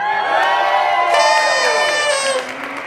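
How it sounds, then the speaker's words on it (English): A crowd cheers and whoops loudly at an open stage show, a dense burst of shouting voices that holds steady for a couple of seconds before dropping off slightly toward the end. "All right, quick cheer for Brett Crow"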